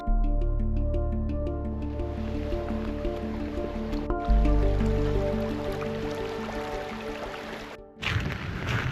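Rain dripping and splashing on a flooded trail in Langley, British Columbia, during an atmospheric river, a steady close watery patter with liquid trickling and a brief interruption near the end.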